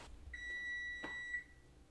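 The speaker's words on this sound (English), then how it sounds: "That beep means we're done." An oven timer gives a single sustained electronic beep when a breakfast hashbrown casserole finishes cooking, a faint steady tone lasting about a second in a quiet kitchen.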